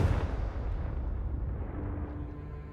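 A fiery spell explosion in the Hogwarts Legacy video game booms with a deep, rumbling blast that decays gradually over a few seconds, with no talk over it.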